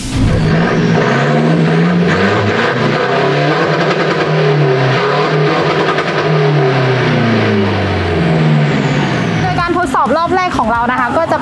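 A 2020 1.9 turbo diesel pickup accelerates hard under full boost, its engine roaring loudly and continuously as the pitch climbs, with a brief burst of voices near the end.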